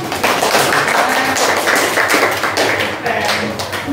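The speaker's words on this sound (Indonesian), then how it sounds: "Tepuk tangan dong buat jalan." A classroom of pupils claps hands together in a steady burst of applause, dense and continuous throughout, with voices mixed in.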